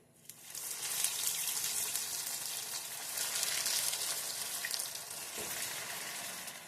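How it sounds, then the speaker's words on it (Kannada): Steady, loud hiss of aloo paneer cheese rolls deep-frying in hot oil over low flame, a broad bubbling sizzle that swells and eases slightly, with no voices. "ಬನ್ನಿ ಫ್ರೈ ಮಾಡ್ಕೋಣ ನೋಡಿ ಎಣ್ಣೆ ಹಾಕಿಟ್ಟಿದೆ ಎಣ್ಣೆ ಕಾದಿದೆ"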